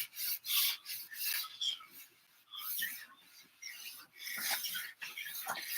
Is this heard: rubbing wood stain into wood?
yes